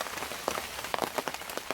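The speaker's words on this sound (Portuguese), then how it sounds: "mas tá chovendo legal, faz algumas horas já." Light drizzling rain patters steadily on surfaces at a campsite, close and continuous with scattered distinct drops.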